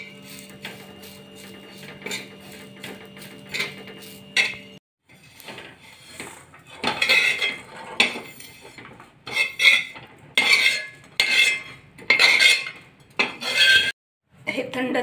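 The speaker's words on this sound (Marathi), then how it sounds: "लसूण, थोडीशी कोथिंबीर पण भाजून घेऊया।" Garlic and a little coriander dry-roasted in a pan, heard as a quiet stretch followed by repeated metal scrapes and clinks of a spatula stirring, each stroke distinct and close.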